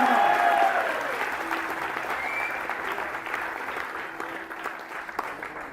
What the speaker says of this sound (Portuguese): Aplaude esse Deus maravilhoso